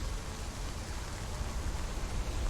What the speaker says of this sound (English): God damn, that rain looks good.